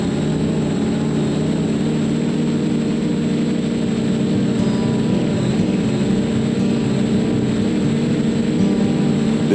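A homebuilt quadcopter drone flies a waypoint mission over Gilbert, Arizona, its motors producing a steady, loud, continuous droning buzz with a constant pitch.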